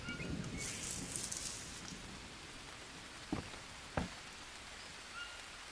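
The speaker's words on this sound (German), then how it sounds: "Ah, es regnet gleich schon wieder." Rain falls in the survival video game Green Hell, a soft steady hiss of drops with a couple of brief sharp taps standing out.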